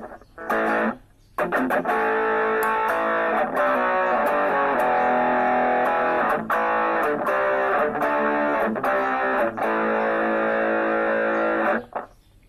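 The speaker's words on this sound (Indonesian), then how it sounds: "drive ya, drive distorsi." Electric guitar run through a Korg AX1500G multi-effects unit on a drive distortion setting, playing sustained, saturated chords and riffs loudly and continuously, with a short break near the start and a sudden stop at the end.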